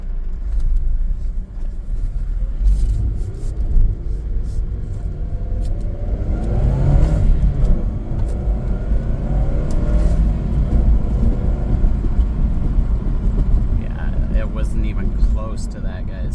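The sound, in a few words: car accelerating after engine upgrade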